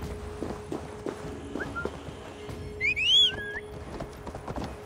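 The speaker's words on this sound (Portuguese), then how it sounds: "Ó o cavalo aqui" Horse hooves clip-clop in the video game Assassin's Creed Valhalla, a few scattered soft steps under a faint hum, with a brief whistle-like tonal call midway.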